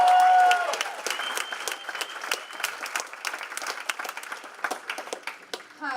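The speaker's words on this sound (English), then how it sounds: "Let's give her a round of applause." Audience applause at a clubs' 2018 annual gala: a full room clapping steadily with crisp, closely packed hand claps for about six seconds, loud at first and then settling to an even level, with no talking over it.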